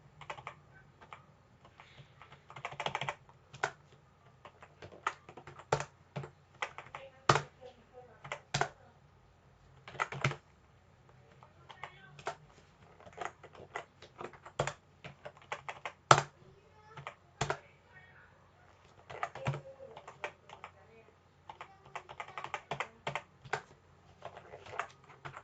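Computer keyboard typing while entering data in accounting software, with tab and enter presses as scattered sharp clicks and short bursts of keystrokes over about 25 seconds, close and clear over a faint low hum, with no speech.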